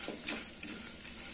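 Roasted gram being stirred in a frying pan, with soft scraping strokes and a faint sizzle repeating over a steady background; no talking.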